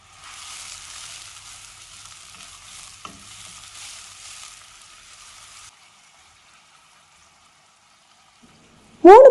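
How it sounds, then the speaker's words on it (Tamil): Sliced onions sizzle in oil in a pressure cooker for mutton biryani, a soft hissing fry for several seconds that drops to near silence before a short loud burst of sound at the end. "3 வெங்காயம் ஸ்லைஸ் பண்ணி வச்சுருக்கேன், அதை சேர்த்துக்கணும்."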